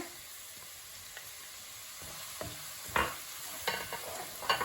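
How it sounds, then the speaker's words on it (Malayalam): Finely chopped medium onion frying in hot coconut oil in a pan, a steady sizzle broken by several scraping stirs that grow louder toward the end; no talking. "ചൂടായ വെളിച്ചെണ്ണയിലേക്ക് നമ്മളിത് കട്ട് ചെയ്ത് വെച്ചിരിക്കുന്ന സവാള ഇട്ട് കൊടുക്കുകയാണ്"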